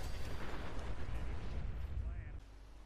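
A grenade blast in Fallout 4 rolls out as a low, rumbling boom with a noisy wash of debris that fades after a couple of seconds, heard alone at moderate volume.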